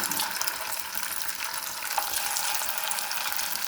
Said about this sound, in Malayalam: നമുക്കിനി പാൻ ഓയിൽ ഒഴിച്ചിരിക്കുകയാണ്. ചൂടായിട്ടുണ്ട്. നമുക്ക് ചെറുതായി ഇട്ട് കൊടുക്കാം.